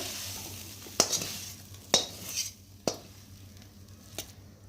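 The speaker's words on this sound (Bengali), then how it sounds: "তো চলো এখন আমি কড়া থেকে নামিয়ে নেব, তা পাত্রের মধ্যে ঢেলে নেব।" Maggi noodles scraped off a wok into a bowl with a few sharp metal knocks of a utensil over a soft background sizzle, no talking.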